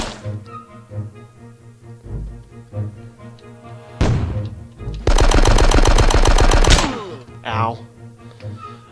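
A big gun firing in the Die Hard: Nakatomi Plaza video game, a loud, rapid automatic burst of shots lasting about two seconds over looping game music, with a single heavy shot just before it.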